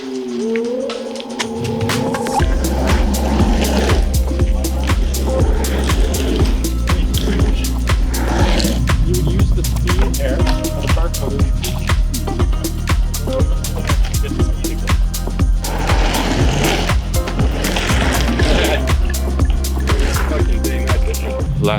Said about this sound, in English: It is a nice sunset today, and we're gonna surf skate to it